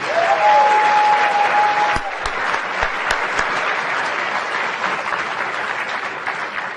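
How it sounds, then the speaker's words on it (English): Audience applause at a medical conference opening session honoring an outstanding class, steady broadband clapping from a large crowd that continues throughout, with a brief tone fading out at the start. "One more round of applause for them, please"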